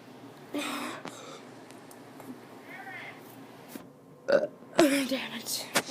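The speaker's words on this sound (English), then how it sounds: "I'm gonna be doing some burps though" A child burps loudly and close, twice in quick succession near the end, after a stretch of soft breathy vocal noises and quiet room sound.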